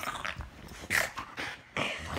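An excited dog whimpers and yips in short, high bursts, faint and close, with snuffling sounds between the cries.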